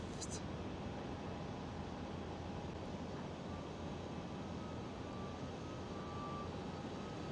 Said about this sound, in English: DHL going right there from runway 18 left